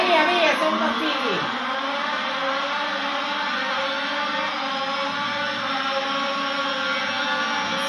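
Formula 1 race cars in the F1 22 video game roar together at the start of the British Grand Prix, a dense, steady high engine drone that stays loud throughout, with no pauses.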